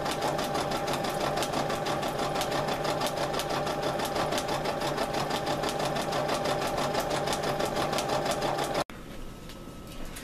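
Sewing machine stitching a rhinestone cheer hair bow, a fast continuous whirring needle rhythm running steadily for about nine seconds before stopping abruptly, leaving a quieter hum, close and clear with no talking.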